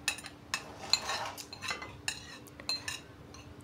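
A spoon stirs cucumber, radish and scallions into doogh, clinking lightly against the bowl in a series of small, close taps with soft swishing between them.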